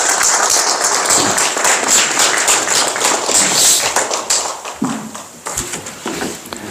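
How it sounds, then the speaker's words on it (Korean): An audience at the launch ceremony of a Korean Peninsula research institute applauds, a dense sustained wash of clapping that thins out toward the end. "박수로 맞으시면 고맙겠습니다."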